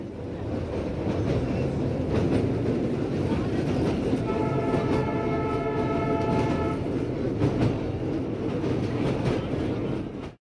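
Darjeeling toy train running through Siliguri, with a steady, loud rolling rumble of carriages on the rails throughout and a sustained horn blast partway through.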